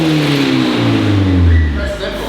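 A Mazda car with a self-fitted exhaust revs loudly and close by, engine pitch rising and falling through a couple of throttle blips over a constant rumble.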